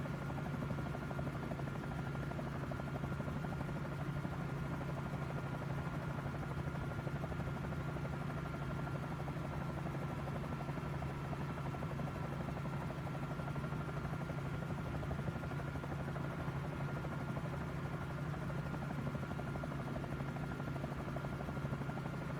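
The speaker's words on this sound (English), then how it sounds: "This helicopter, like I said, it's very easy to handle" A steady, droning Bell 47 J-2 helicopter engine hum in Microsoft Flight Simulator, a constant low buzz, unchanging throughout and heard alone without voices.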